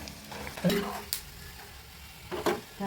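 Gram flour batter for kara boondi frying in hot oil, a steady broadband sizzle with a few sharper stirring scrapes and clinks near the start and end, close and moderately loud.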